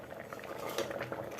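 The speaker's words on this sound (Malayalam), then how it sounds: "നല്ലപോലെ തിളച്ച്" Drumstick-leaf sambar bubbles steadily in a pot on the stove, a soft close simmer of popping and burbling liquid with faint clinks, no voices.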